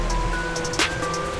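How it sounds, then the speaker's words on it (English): Loud, fast-moving water rushes in a steady broadband roar close by, with a brief splashy surge partway through and no talking over it. "This water is moving really fast and it is loud today."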